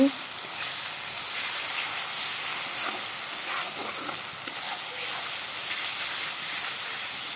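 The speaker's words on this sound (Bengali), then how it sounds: "দেখো এখানে হলুদ দিয়ে দিলাম নুনটা আমি পেঁয়াজের সাথে দিয়ে দিয়েছি" A spice paste of onions, turmeric and salt fries in oil for an egg curry, making a loud, unbroken hissing sizzle from start to finish with faint stirring underneath.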